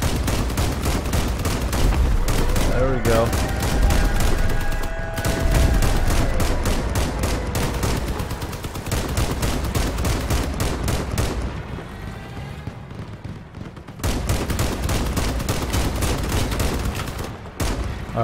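Rapid, continuous heavy cannon fire booms and thuds in dense bursts in the vehicle shooter game Crossout, loud and chaotic, with a voice briefly speaking under the din.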